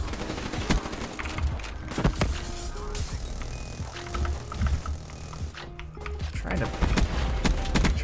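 Rapid automatic gunfire fired from the hip in Black Ops 3 crackles in dense bursts, layered with game effects and tones.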